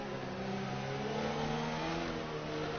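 A Formula 1 car in the F1 2019 racing game holds a steady, sustained engine drone at high revs throughout, with no talk over it.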